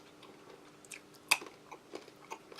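Someone chews soft-going, slightly salty crunchy food from a 2013 British Army 24-hour ration pack, menu 14, with one sharp close bite followed by quieter, irregular chewing crunches alone.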